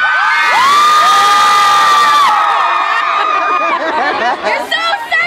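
A festival concert crowd at the Date Festival cheers and screams loudly, with high shrill whoops layered over steady roaring noise that thins into scattered shouts toward the end.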